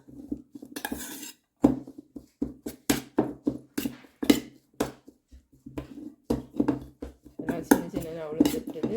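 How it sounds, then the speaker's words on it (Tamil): A metal spoon repeatedly mashes canned tin fish in a bowl for Jaffna-style sambal, producing sharp, close clinks and scrapes in an irregular rhythm, with brief pauses between bursts. "சின்னனா உதிர்ந்து வர மாதிரி நல்லா மசிச்சிடுங்கோ"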